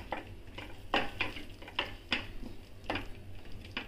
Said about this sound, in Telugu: ఒకసారి మిక్స్ చేసుకొని